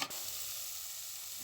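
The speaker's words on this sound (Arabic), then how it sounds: "البصل تاعي بعد ما تقلى مليح" Onions fry in a pan with a continuous, even hiss and sizzle, quiet and close by, with no talk.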